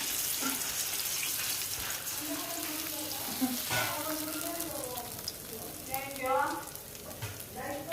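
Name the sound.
handvo batter sizzling in hot oiled pan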